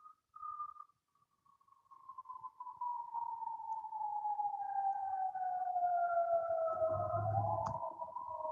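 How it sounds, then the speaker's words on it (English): A lone siren wails far off, a faint steady tone that slowly falls in pitch with a second tone above it, plus a brief low rumble near the end. "Sorry about the sirens in the background."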